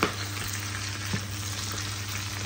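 Shrimp fry in butter and garlic with a steady, close sizzle while a spoon stirs them, a brief scrape of the utensil cutting through the constant crackle.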